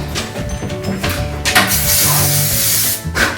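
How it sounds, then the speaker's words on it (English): Hairspray from an aerosol can tilted at an angle and sprayed up underneath straight hair, several close, loud hissing bursts in quick succession. "I just tilt my can so that it's coming in at an angle under here, and we're just gonna spray that just up underneath"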